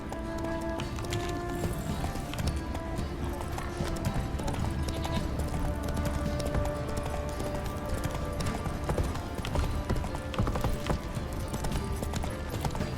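A horse gallops in The Witcher 3: Wild Hunt with a fast, continuous clip-clop of hooves, loud and close throughout over a busy game soundscape.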